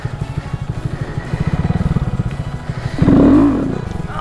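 A Honda Grom motorcycle engine pulses in a low, rapid putter during wheelie practice, then surges into a louder, rising rev near the end, close and prominent with no talking.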